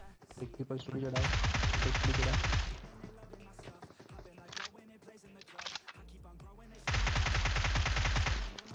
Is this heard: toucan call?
no